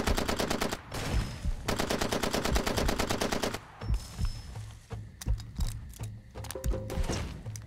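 Gunfire in the video game Far Cry 2, long rapid bursts of automatic fire followed by scattered sharper shots, loud and dense throughout.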